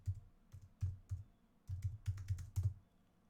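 Bursts of clicky keystrokes on a computer keyboard, typed in short uneven clusters with brief pauses between them, close and fairly quiet with no talking.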